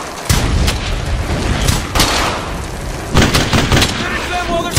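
Loud, continuous gunfire and booming blasts from the World War II video game Brothers in Arms fill the clip, with heavy shots bursting in clusters and no pause between them.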